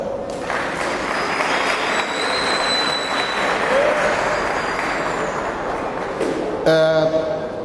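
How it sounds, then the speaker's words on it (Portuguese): Audience applause in a hall at a training course session, broad steady clapping at full level throughout, with a faint whistle-like tone and a few clicks near the end. "para quem eu peço uma salva de palmas"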